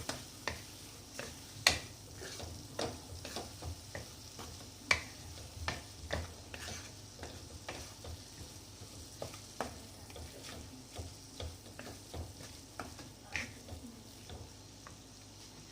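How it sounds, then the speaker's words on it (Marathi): A spoon scrapes and taps in a pan of tomato red sauce for pasta while it is stirred, giving steady irregular clicks and scrapes over a soft sizzle, close and fairly quiet, with no talk. "छान मिक्स करून घ्यायचं."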